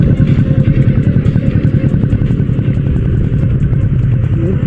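A motorcycle fitted with an imitation SC Project exhaust and a silencer idles close by, its loud engine putting out a rapid, even pulsing throb for the whole stretch.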